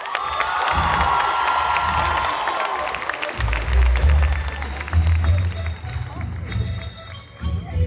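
At a cosplay contest at a convention, the crowd applauds and cheers loudly for a cosplayer, with shouts over steady clapping that gives way to low rumbling and a voice amplified over the hall.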